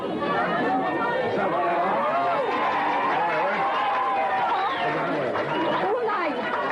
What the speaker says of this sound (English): Bit of a bloody crowd there.